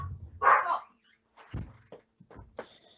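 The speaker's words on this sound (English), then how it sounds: "Sorry, my dog's barking." A dog barks in another room, one muffled bark early, then a few shorter, softer yelps and whimper-like sounds at moderate distance, with no talk over them.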